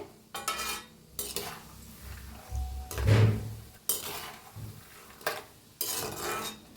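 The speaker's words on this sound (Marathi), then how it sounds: "बघा आता तेल गरम आहे, तर त्याच्यातच आपण शेंगदाणे तळून घेऊया." Peanuts frying in hot oil in a home kitchen pan, with repeated short bursts of stirring and scraping over a quiet background sizzle, close and fairly soft.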